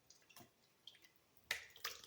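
Kefir poured into a container while making it at home, a quiet trickling and splashing with two brighter liquid bursts near the end, faint and close with no talk.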